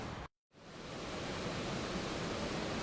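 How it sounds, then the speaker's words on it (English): Lumangwe Falls, a waterfall on the Kalungwishi River, sends out a steady, dense roar of rushing water. A brief gap cuts it near the start, and then the roar resumes unbroken. "Lumangwe, for sure, is very beautiful waterfall."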